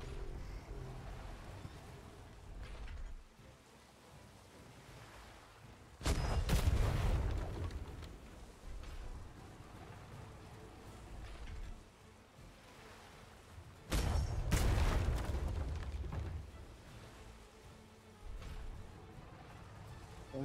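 Ship cannons fire in the pirate video game ATLAS, two heavy booming blasts several seconds apart over a continuous low rumble of game ambience.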